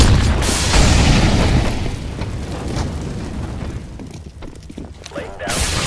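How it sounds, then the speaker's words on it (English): A flashbang grenade goes off in Counter-Strike: Global Offensive, giving a loud booming burst that decays into a ringing wash, with a voice calling out faintly over the game sounds. "Throwing flashbang."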